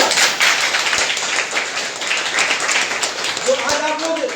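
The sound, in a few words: audience clapping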